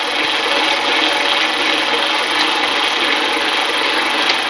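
A gearbox shifted into third gear runs with a dense, steady mechanical whir and whine, loud, close and unbroken, with no voices over it.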